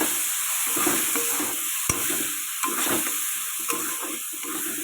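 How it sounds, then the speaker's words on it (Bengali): Spices with a little chili powder fry in a pan for pangas fish curry, a close, steady sizzle broken by scraping stirs and a few sharp spoon clicks, with no talking. "এটা সুন্দর করে এখন আমি ভাজবো"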